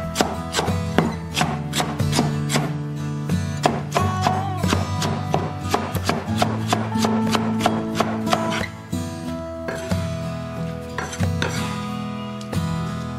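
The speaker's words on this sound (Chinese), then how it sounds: "过凉后放在案板上，切成片。" A knife slices blanched okra on a cutting board in a quick, steady series of crisp taps, heard close over tonal background music.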